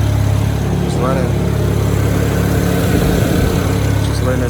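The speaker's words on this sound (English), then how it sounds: "Just letting it sit, let it idle." A BMW 335i, just restarted after repairs and still burning off oil in the exhaust, idles steadily and close up, with a constant low engine drone throughout and a person talking briefly over it.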